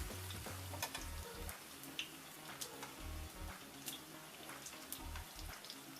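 Food frying in hot cooking oil crackles and spits softly, with scattered sharp pops over a low steady sizzle and some low bubbling bursts.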